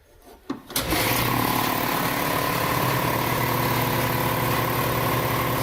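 A Sanborn 60-gallon shop air compressor starts after a brief clatter and settles into a loud, steady, close motor drone with a low rumble, running alone.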